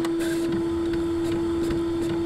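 An Epson ColorWorks C6500 label printer runs off a chemical label, giving a steady mechanical whir with a constant tone, close and continuous with no talk over it.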